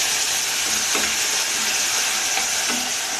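Fenugreek seeds and tomato fry in hot oil for dal, giving a loud, steady sizzle with faint crackles, close and continuous, without speech.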